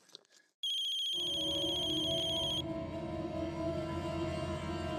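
A phone rings with a bright electronic trilling tone, followed by a steady droning tone, loud and close with no talking.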